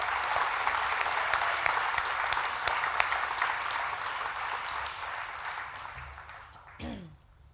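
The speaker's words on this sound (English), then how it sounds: "Let's give them a big round of applause." A large crowd at a school graduation ceremony for the Class of 2019 applauds steadily and densely for the graduating class, sustained clapping filling the room before tapering off near the end.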